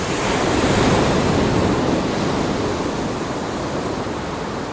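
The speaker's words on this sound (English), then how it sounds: "In the ocean, the sound of crashing waves." Ocean waves crash in a steady, loud roar of broadband surf that fills the whole clip, with no voices and no breaks between breakers.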